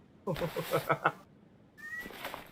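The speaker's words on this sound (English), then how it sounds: "Cat's all miffed I moved, and she's like," A house cat gives a quick series of short, close meows, five or so in rapid succession, followed by a quieter softer bit of sound after a brief pause.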